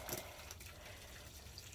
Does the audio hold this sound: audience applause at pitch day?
no